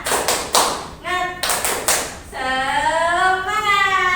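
A classroom group claps in a quick synchronized pattern of sharp bursts, then voices join together in a drawn-out cheering shout, close and lively.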